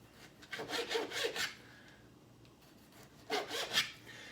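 A sharpened Pampered Chef kitchen knife slices raw sausages on a board for a sausage and white bean soup. It makes soft, quick sawing strokes in two short bursts with a quiet pause between them, close up and alone.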